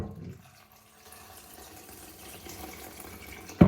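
Tap water runs over blueberries being washed, a faint, soft splashing stream that stays low and steady, with a brief louder clatter at the end.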